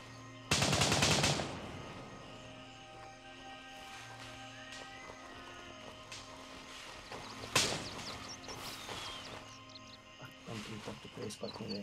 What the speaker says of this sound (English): Shooting, I can hear shooting on India and Julia 1.